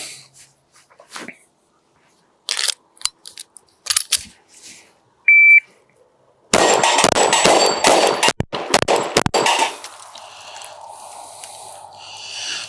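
At an indoor pistol range, a shot timer gives a sharp electronic beep before a Sig P365 X Macro with an Icarus Precision aluminum lower fires a rapid, loud string of shots, with scattered clanks and rustles before it.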